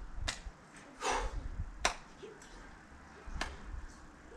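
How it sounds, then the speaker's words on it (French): A person doing an upper-body workout claps overhead with arms held level: four sharp, separate claps spaced roughly a second apart, close and fairly loud, with quiet between them. "on garde les bras à l'horizontale et on va applaudir sur le haut"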